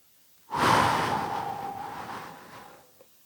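A single long, heavy exhalation during a push-up workout, close and breathy, rising abruptly, then fading slowly over about two and a half seconds, with a faint click just after.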